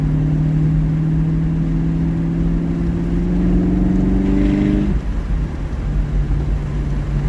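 A 2019 Camaro SS V8 with its secondary catalytic converters removed runs steadily through the exhaust in a deep, loud drone, then the note drops away suddenly to a lower, rumbling idle.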